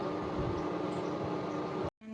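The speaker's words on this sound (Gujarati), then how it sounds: "ઉફાણો આવવા માંડ્યો છે" A pot of buttermilk and water curry, spiced with turmeric and asafoetida, bubbles at a rolling boil close up as it starts to froth, with a steady seething hiss. The sound cuts out briefly near the end and then returns more softly.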